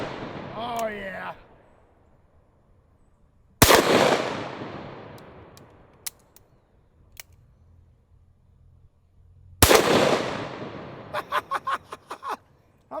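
Two very loud .500 Magnum gunshots ring out several seconds apart, each striking the steel front door of a Harbor Freight gun safe with a sharp crack and long decaying echo outdoors; faint clicks and a rattle follow, with brief talk at the start.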